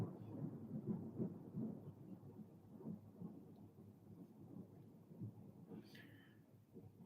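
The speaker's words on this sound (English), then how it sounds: "Can you guys hear the thunder?" Distant thunder rolls low and continuous through the whole stretch of a thunderstorm, with soft rain noise underneath and no talking.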